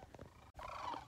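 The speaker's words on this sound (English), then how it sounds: "I think this is the closest I've ever been to sand crane." Sandhill cranes call from close range, a loud, continuous chorus of rolling, bugling bird cries with layered overlapping voices and no talk.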